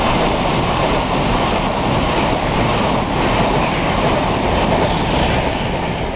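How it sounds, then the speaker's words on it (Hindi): A passenger train hauled by a WP7 locomotive rumbles past in the Open Rails train simulator, a steady loud roar of rolling wagons with faint rhythmic wheel clatter throughout. "WP7 लोकोमोटिव के साथ मडगांव न्यू दिल्ली हजरत निजामुद्दीन राजधानी एक्सप्रेस हमें ओवरटेक मार रही है"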